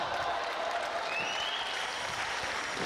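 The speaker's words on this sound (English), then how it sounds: "Lots of applause there from the audience." Steady, dense audience applause fills a hall at a national weightlifting championship in Bhubaneswar, continuous and fairly loud throughout with a faint whistle-like tone rising midway.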